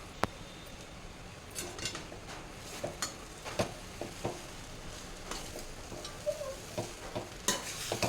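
A rice mixture is stirred in a pan: quiet, irregular scrapes and taps of a utensil recur over a soft background sizzle, with no voices.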